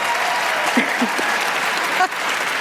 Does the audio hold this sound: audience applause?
yes